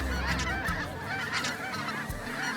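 A flock of snow geese honks during a waterfowl hunt, overlapping nasal calls repeating steadily and fairly close, with wingbeat-like rustle and low background rumble underneath.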